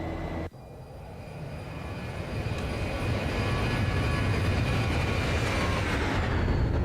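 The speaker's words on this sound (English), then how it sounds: "Flyby." An airplane flies past, its engine roar swelling from a quieter start into a loud, steady, broadband rush that holds strong to the end.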